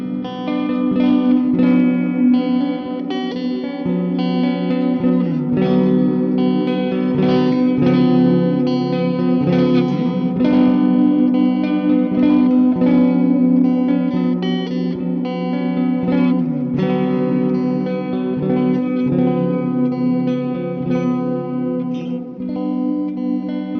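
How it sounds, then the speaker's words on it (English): Cheap Ibanez electric guitar plays sustained clean chords through a shimmer reverb pedal, drenched in lush, shimmering reverb with an airy, ambient tail, continuous and fairly loud. "We also have this 𝐒𝐏𝐄𝐂𝐈𝐀𝐋 reverb in the loop here."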